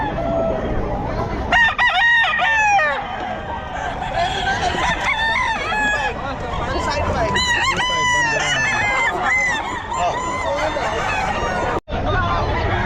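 Gamefowl roosters at the Bocaue pet market in the Philippines crow loudly and repeatedly, some close and some overlapping. Clucks sound between the crows over a steady background of crowd babble.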